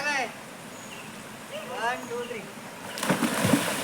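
Children jump into water outdoors in the village rain, ending in a loud nearby splash and sloshing after quieter moments filled with excited voices.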